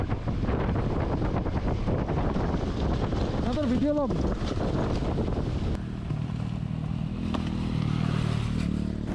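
Off-road motorcycles, among them a KTM Adventure 390, roar past on a trail amid heavy wind buffeting on the microphone, with a loud engine surge in the middle and brief voice sounds.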